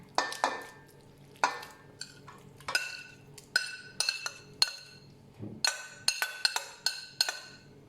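Canned tuna in brine and fish in spiced sauce go into curry paste in a pot, with a metal spoon clinking and scraping against the pot in a steady series of sharp, close taps and stirs.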